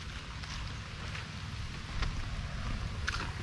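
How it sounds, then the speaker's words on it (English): Steady rain falls outdoors where a 1959 Dodge Coronet is being worked on, a continuous hiss with a few scattered drop taps, likely mixed with some wind. "it is raining"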